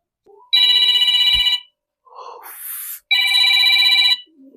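A mobile phone ringtone sounds for an incoming call, playing two loud, steady bursts of a bright electronic melody separated by a brief pause with faint noise, close and clear with no talk over it.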